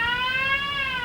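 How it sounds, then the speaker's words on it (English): Initial-stage fire alarm in a factory, a steady, loud electronic tone with stacked harmonics, sounding continuously without a break. "When someone hits that break glass button, it sounds an initial alarm that sounds like this."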